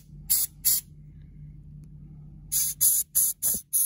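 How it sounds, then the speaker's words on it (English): Short bursts of aerosol cleaner sprayed into a Littmann Classic II stethoscope, two quick hisses, a pause, then four more close, loud sprays in a rapid row. "And just spray."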